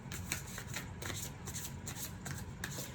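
Tarot cards being shuffled by hand, a steady run of soft riffling and rubbing bursts that repeats without pause over a low background hum, with no speech.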